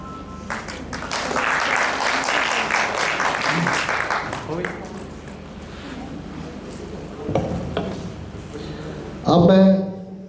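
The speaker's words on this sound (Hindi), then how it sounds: "एक बार जोरदार तालियां अमनदीप कौर के लिए।" Crowd applause at a Women's Day award ceremony honouring women, a loud burst of clapping that swells for several seconds, then fades as a voice on a microphone takes over.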